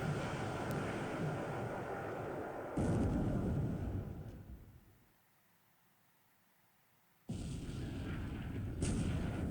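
Naval gunfire in the War in the Pacific strategy game as shells strike a crippled enemy ship: loud sustained rumbling blasts and noise, a brief quiet gap midway, then more heavy impacts resume.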